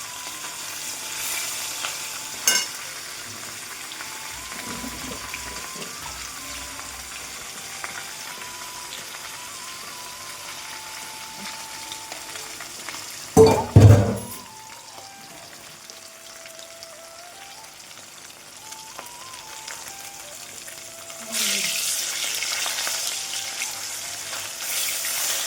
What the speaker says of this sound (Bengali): এখন এই মাছটা ভেজে নিচ্ছি।